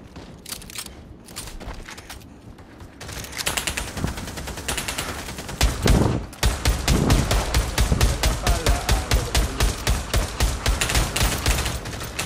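Rapid automatic gunfire from the VR shooter game Pavlov, starting in scattered shots and building into sustained, loud bursts of repeated rounds that fill the second half.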